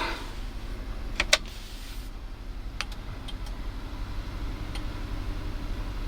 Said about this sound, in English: The relays are audible from behind the glove box.